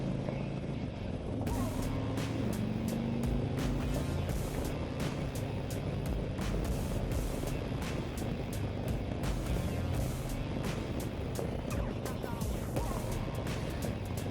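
A 2024 Harley-Davidson Road Glide Limited motorcycle cruising on the road, its steady engine drone mixed with continuous wind rush and road noise, loud and close throughout.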